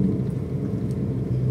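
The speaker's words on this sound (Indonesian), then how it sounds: "Dengar suara knalpotnya tuh merdu banget tuh." Low, steady exhaust rumble from a modified manual Toyota Vios Limo with GR TRD Sportivo styling on a Sunday morning drive, heard from inside as a continuous drone without talk.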